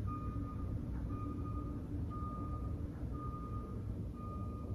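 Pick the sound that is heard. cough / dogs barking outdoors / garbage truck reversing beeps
garbage truck reversing beeps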